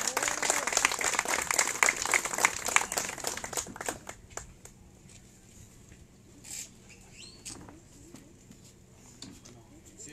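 Audience applause at a road inauguration ceremony for the Iguala–Teloloapan highway in Guerrero, dense clapping for about four seconds that thins into a few scattered claps and quiet outdoor ambience.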